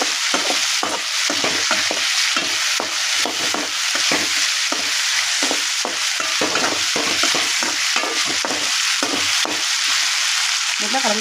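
Potatoes sizzle steadily in a hot pan for an egg-and-potato fry, with repeated stirring scrapes making a busy, close, continuous frying texture and no talking.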